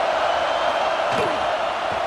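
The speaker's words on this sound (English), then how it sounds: "And the crowd coming to life here, trying to help this defense down in the red zone." A stadium crowd at an LSU vs Auburn college football game roars steadily as the home defense holds in the red zone, a dense, continuous wall of cheering with no break.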